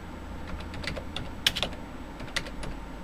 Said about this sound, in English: Now you'll type list disk.